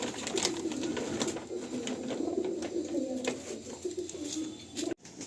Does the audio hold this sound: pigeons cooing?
yes